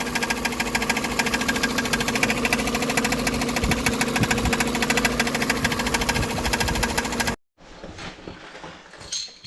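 A scooter engine with a rhythmic mechanical knock after a variator (CVT) replacement runs with a rapid, even ticking knock over its hum for about seven seconds, then cuts off abruptly, leaving faint background rustling.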